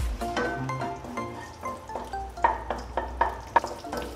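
Garlic sautés briefly in a little leftover oil in a wok, a soft sizzle punctuated by several ringing clinks and scrapes of a spatula being stirred against the metal.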